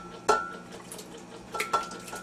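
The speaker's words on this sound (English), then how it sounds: "And I'm now going to add this into my blender." Simmered food is poured from a pan into a blender in a home kitchen, with two or three sharp metallic clanks of the pan against the jar over a faint background hum.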